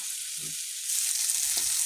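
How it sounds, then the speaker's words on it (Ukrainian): Steady sizzling and spitting of flour-dredged fish frying in a hot pan, close and fairly soft, with a couple of faint taps underneath. "А на сковорідці ось так вона смажиться трошечки."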